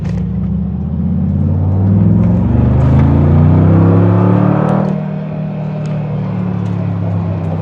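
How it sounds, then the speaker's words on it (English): A 2022 Mercedes-Benz G 63 AMG accelerates in comfort mode, its engine rising in a loud, close drone with smooth upward sweeps through the gears, easing off briefly and then building again. "So I'll kind of get on it in comfort mode so you can hear the difference, if at all."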